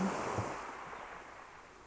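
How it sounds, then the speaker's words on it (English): Ocean waves heard as a soft, steady wash of surf, close and continuous, slowly fading over a couple of seconds with no voices. "The waves move steadily, without urgency."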